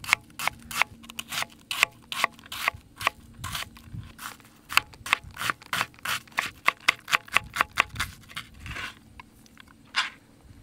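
A knife slicing through a large rainbow trout on a board, a rapid series of crisp scraping and crunching strokes in an irregular rhythm, close and fairly quiet with brief pauses.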